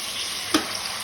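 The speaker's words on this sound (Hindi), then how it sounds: "इसमें तेज आंच पे करके इसको भून रहे हैं।" Vegetables fry on a high flame in a pan, giving a steady sizzling crackle with a brief stir or clatter midway, and no voices.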